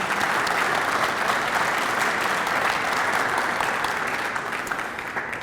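Sustained applause from a morning breakfast meeting audience fills the room, dense and steady for several seconds, then gradually tapering toward the end.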